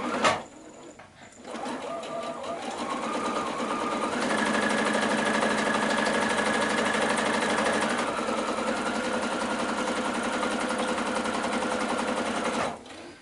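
A sewing machine stitches quilt fabric strips at a short stitch length, a steady close mechanical whir running continuously for several seconds before stopping abruptly, with no talk.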